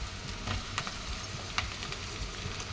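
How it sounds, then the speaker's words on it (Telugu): Small tomato pieces fry in hot oil for a paneer masala curry, with a soft, steady sizzle and a few light stirring clicks, close and quiet, with no voices. "ఇది కూడా ఆయిల్లో బాగా ఫ్రై అవ్వాలి."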